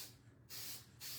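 Two short, hissing bursts from a can of Mache rust-effect spray paint, close and fairly quiet, separated by a brief pause.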